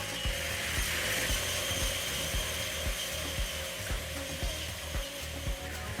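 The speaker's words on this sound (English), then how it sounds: "The FL 500P vine pruner slices through rows at 8 kilometers per hour, using hydraulic blades to trim canes with surgical precision." A hydraulic FL 500P vine pruner trims vineyard canes, giving a steady mechanical drone with rapid, regular clicking and ratcheting pulses from the blades running throughout.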